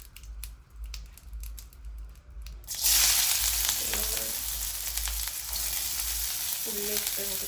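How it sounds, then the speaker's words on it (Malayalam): Onion, tomato and ginger sauté in coconut oil for an egg rice dish: a loud, steady sizzle bursts in about three seconds in after quieter handling, then continues close by with occasional stirring scrapes. "എന്നിട്ട് അതൊന്ന് നല്ല രീതിയിൽ വഴറ്റണം."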